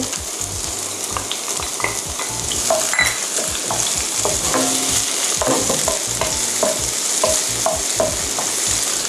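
Mushrooms stir-fried in hot oil for crab-stick udon, a steady sizzle with repeated scraping and tossing of a spatula in the pan, close and continuous.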